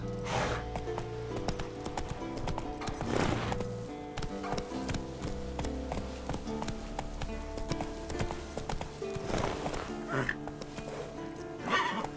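A galloping horse in The Witcher 3 pounds out steady hoofbeats with occasional neighs and whinnies, and a rider's brief shouts sit over the rhythm.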